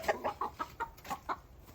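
Chickens clucking close by, a series of short rhythmic clucks repeating quickly and steadily with no voices.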